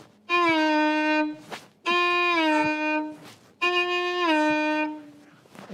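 Three times, a voice imitates a passing car with a sustained buzzing tone that drops in pitch as it goes by, separated by brief pauses.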